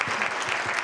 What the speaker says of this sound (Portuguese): Queria pedir uma salva de palmas para o Felipe pela atenção.